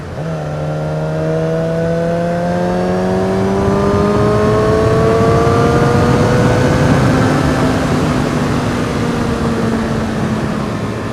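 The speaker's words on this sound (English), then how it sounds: "it's so fun shifting right now." A Suzuki GSX-R sportbike engine revving loud and close, pitch climbing through repeated rising sweeps with drops at each upshift, a continuous roar with wind rush underneath.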